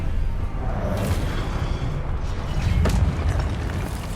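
Confringo fire spell cast in the video game Hogwarts Legacy: a dense, continuous rumbling roar with a couple of muffled booming bursts rising out of it, loud throughout with no talk.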